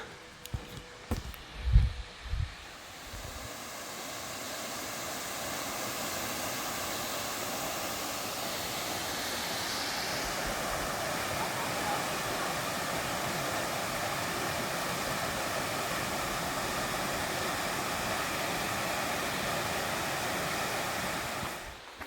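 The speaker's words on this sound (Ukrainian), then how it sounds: "І чути там далі водоспад тече." The Hurkalo waterfall rushes continuously in the distance, a broad steady roar that swells in after a few brief knocks at the start.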